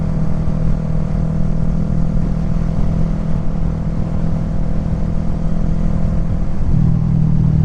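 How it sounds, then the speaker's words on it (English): A motorcycle with an aftermarket exhaust idles and revs nearby, a steady loud mid-pitched drone with a small rise in pitch toward the end, with no talking. "I could not be happier with my exhaust. Sounds great."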